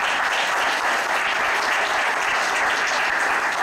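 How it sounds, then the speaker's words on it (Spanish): Steady audience applause at a karate competition awards gathering, a dense, even patter of many hands that holds at full strength for the whole stretch, with no talk over it. "le damos un fuerte aplauso a Schneider"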